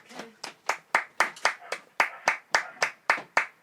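Steady rhythmic clapping heard through an open window, one set of hands beating a regular slow pulse at close range, with about fourteen sharp claps and no talk.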